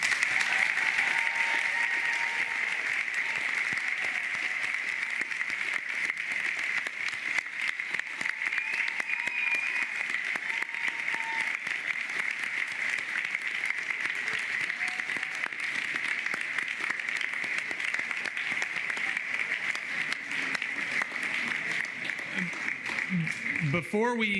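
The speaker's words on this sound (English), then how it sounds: "Please, one more round of applause." A ceremony audience honouring retiring school staff gives a long, steady round of applause, even clapping sustained throughout with little variation.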